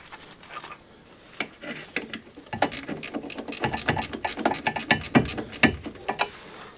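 Ratchet wrench working a rusted rear brake bolt loose on a car, fast close clicking in rapid bursts that grow louder and denser after a few quiet seconds of faint mechanical noise.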